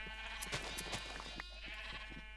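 Sheep bleat in the Minecraft video game during sheep farming for wool: several short, close bleats in quick succession over a steady low background hum.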